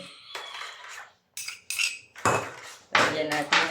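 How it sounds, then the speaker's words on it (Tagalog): Ingredients for pineapple bread are mixed in a bowl, with a utensil scraping and clinking against the dish in short, irregular bursts separated by brief pauses. "So, paghaluin natin lahat yan."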